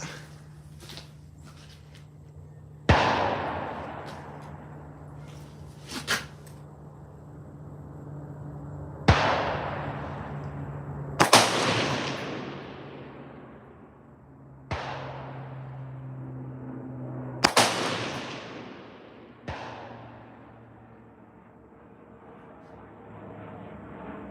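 An AR-15 rifle, a Smith & Wesson Sport 3, fired at a shooting range with targets at 100 and 200 yards: about seven sharp, loud cracks spaced several seconds apart, each trailing off in a rolling echo.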